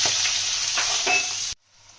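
Onion and green chili fry in hot oil with a loud, steady sizzle and a few soft stirring scrapes, then the sound cuts off abruptly into near silence.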